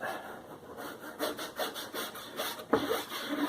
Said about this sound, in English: I'm going to use my squeegee now to help make sure I lay this down nice and flat.